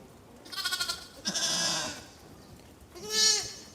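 Young lambs bleat three times, thin wavering cries with quiet gaps between them, close and clear with no talking.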